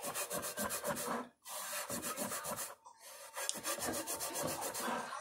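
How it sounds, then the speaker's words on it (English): Fingers scrub coarse salt around a cast iron skillet by hand, a rapid rhythmic rasping that runs close and steady, broken by two brief pauses. "you scrub with that salt in your fingers till it goes away"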